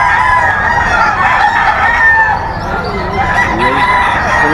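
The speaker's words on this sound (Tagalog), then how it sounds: "Yan yung early bird ni Boss Perry mga idol" A Hatch gold gamefowl rooster crows loudly and close by, with drawn-out calls and some clucking, against a noisy outdoor backdrop.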